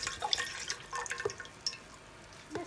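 Water poured into a glass jar of cucumber pickles in vinegar, heard as a close series of irregular splashy drips and trickles that briefly thin out before a final splash, with no one talking.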